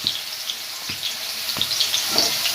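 Onion and ginger paste frying in oil for a Bengali katla fish curry, a steady close sizzle with faint clicks of stirring and occasional soft ticks throughout.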